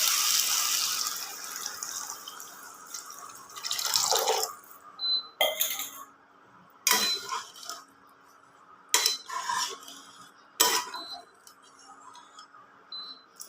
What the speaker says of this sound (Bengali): এরপর আমি এর মধ্যে জল দিয়ে দেবো